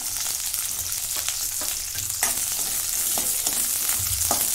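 Mixed vegetables of green beans, carrots and drumsticks frying in a pan, a steady loud sizzle with occasional stirring scrapes throughout, close up, no talking.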